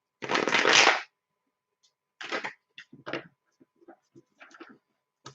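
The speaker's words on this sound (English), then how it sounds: "I'm going to pull one more card for Giggle." Tarot cards being shuffled up close: first a loud burst of riffling, then several short, sharp card flicks and taps with gaps of silence between them.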